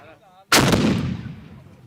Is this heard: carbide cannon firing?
yes